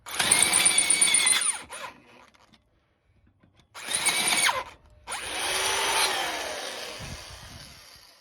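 A power drill whines loudly as it bores through metal in several bursts, with short pauses and a high screeching tone between them.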